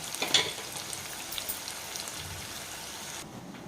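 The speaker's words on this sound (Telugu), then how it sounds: "మంచిగా వేగనిద్దాం" Onions frying in oil for a sesame and bottle gourd pulusu, a faint, steady crackling sizzle with a few brighter pops near the start, dropping off near the end.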